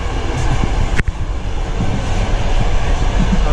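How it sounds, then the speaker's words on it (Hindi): Interior of a moving passenger train travelling from Samarkand to Tashkent: a loud, steady rumble and rattle of the carriage with a brief squeak or clack near the start, no talking. "ट्रेन रवाना हो चुकी है।"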